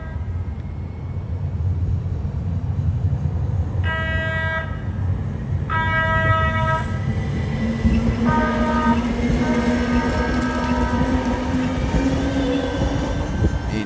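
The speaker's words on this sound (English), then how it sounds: "a trolley comes by and passes over the green signal" A trolley rumbles steadily past at close range, passing over a signal in San Diego, with a loud horn sounding in bursts over the continuous rolling noise of wheels on track.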